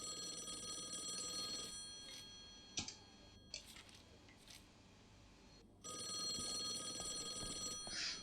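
A telephone ringing in a video game, sustained electronic ring bursts at the start and again near the end, separated by a quieter stretch with a few sharp clicks and knocks.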